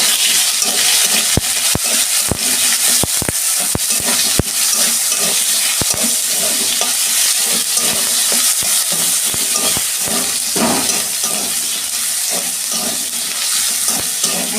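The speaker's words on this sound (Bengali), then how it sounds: "আমি টমেটোটা একটু ভেজে নেবো যাতে কাঁচা গন্ধটা চলে যায়" Tomato frying in hot oil in a pan, about to be joined by ground ginger-cumin paste for a fish curry with potato and eggplant: loud continuous sizzling and crackle close up, punctuated by sharp ladle clicks against the pan.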